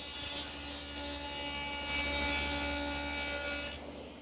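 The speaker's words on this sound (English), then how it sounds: "I've installed my stacked dado at a 1/2 inch width." A stacked dado blade set to half-inch width cuts a groove in wood stock held down by a featherboard, a steady whining table-saw drone that swells during the pass and then drops away near the end.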